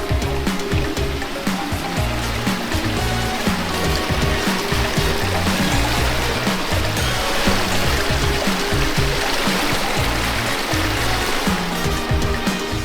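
Water runs continuously through a garden water feature in landscaped front-yard grounds, a steady close splashing and trickling that stays even in loudness without pause or voices.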